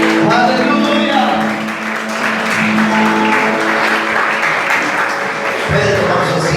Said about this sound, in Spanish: denle ese aplauso con todo su corazón.